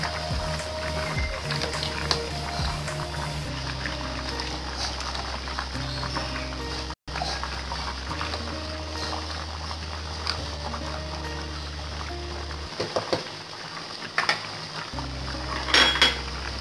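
Ginger garlic paste stirred into chicken korma in a pot, with metal utensil scrapes and clinks against the pot over a steady low background hum, close by and without talk.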